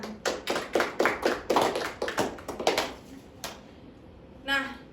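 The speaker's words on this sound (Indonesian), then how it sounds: "Tepuk tangan." Children in a classroom clapping their hands in a quick burst of about a dozen claps, fairly close, then a few scattered claps, with a short voice at the very end.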